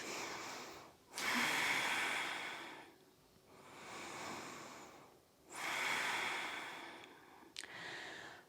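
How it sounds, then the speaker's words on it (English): Slow, deep breaths during a yoga session, drawn in and let out in long audible waves with quiet pauses between them, close and unaccompanied by talk. "Okay, just 3 more breaths here."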